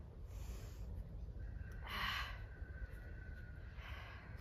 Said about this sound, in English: It's always good to make some noise when you are breathing hard